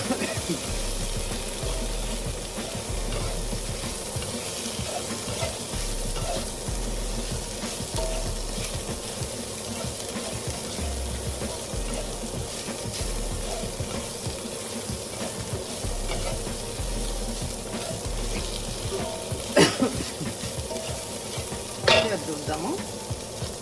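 Okra fries with chili powder in a pan, a dense steady sizzle with scraping stirs and occasional sharper clinks, close and continuous throughout.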